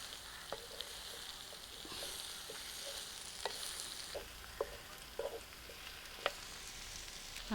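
Chopped pumpkin fries in a pan with a soft, steady sizzle, broken by occasional light clicks and scrapes of stirring, quiet and close.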